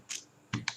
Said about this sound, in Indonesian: kita bisa tekan ALT ya. Di keyboard ya.